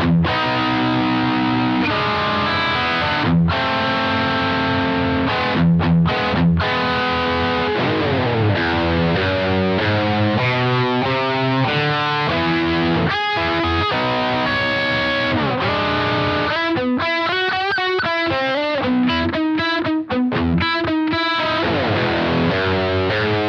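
Electric guitar run through an amp block on an HX Stomp into an Iconoclast, playing sustained distorted chords and then choppy, rhythmic staccato phrases, loud and continuous with no talking.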